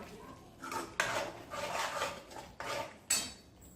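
Mutton gravy being stirred and sautéed in a pan at home, with utensil scrapes and clinks against the metal coming in short bursts, moderately close and fairly quiet.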